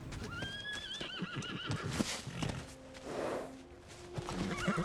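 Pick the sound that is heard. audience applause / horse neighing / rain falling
horse neighing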